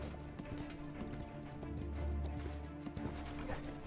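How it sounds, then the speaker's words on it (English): A flaming horse gallops in the online shooter Paladins, its hooves clip-clopping rhythmically under a busy, dense game mix of battle noise and music, with no one talking. "Awesome flaming horse."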